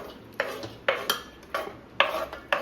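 Churumuri being tossed with onion in a bowl, giving a quick, regular series of scraping, clinking stirs about twice a second, close up and without talk.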